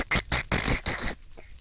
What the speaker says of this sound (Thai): เอิมนี่เสียงคุณช็อตหรือว่าอะไรเนี่ย